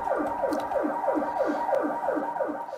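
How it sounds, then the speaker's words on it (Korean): An ambulance siren on a road in South Korea wails in a fast, repeating falling sweep, loud and steady throughout, with no voices. "이렇게 긴급함을 알리는 사이렌 소리에도 도로 가운데서 비키지 않는 검은색 차량"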